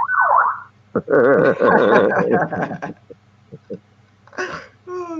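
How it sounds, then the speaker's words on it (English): A short rising-and-falling siren wail sounds close and loud, followed by brief vocal sounds and chirpy tones. "Did you hear my siren?"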